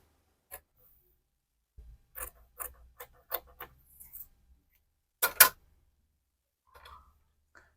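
Fabric for an elastic waistband being cut with scissors, a short run of quiet, crisp snips in a steady rhythm followed by a louder double rustle, with no talking.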